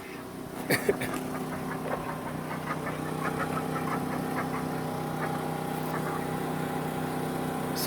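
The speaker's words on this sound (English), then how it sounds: "Excuse the generator noise," A generator drones steadily with a low knocking engine hum outdoors at an off-grid duck coop, with a few faint clicks and clatters near the start.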